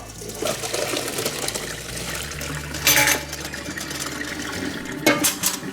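Pasta water poured from a pot into a colander, a steady splashing rush with a couple of louder gushes and clanks near the end, no talking.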